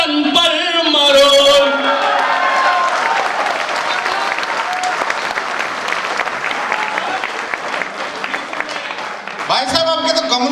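Loud, sustained applause from an audience at a Hindi/Urdu poetry recital, with a poet's patriotic verse ending into it; clapping fills the whole stretch with voices over it briefly at the start and end.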